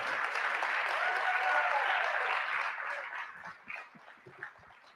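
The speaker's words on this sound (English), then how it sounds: "Cheer one more time for Kymm Ballard" A conference audience at a keynote session applauds steadily and warmly, the clapping fading away after a few seconds into scattered claps and room noise.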